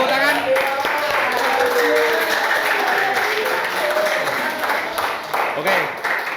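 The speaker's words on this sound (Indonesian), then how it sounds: "Tepuk tangan." A classroom of students claps together in steady, dense applause that fills the whole stretch, with voices calling out over the clapping.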